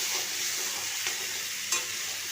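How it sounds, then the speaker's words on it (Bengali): Potato and ridge gourd sautéing in a pan for a Bengali vegetarian dish, with a continuous close frying sizzle and a few soft stirring scrapes. "এদিকে আলু আর ঝিঙেকে আমি খুব ভালো করে কষিয়ে নেব"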